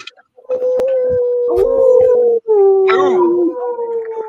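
A person imitates a dog howl with a voice: long, wavering, sliding howls in two main stretches, loud and close, with a brief break between them and no other talk.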